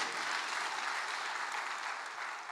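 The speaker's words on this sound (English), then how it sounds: "You clap for him again." Steady, dense applause from a crowd, sustained at an even level throughout with no voices standing out.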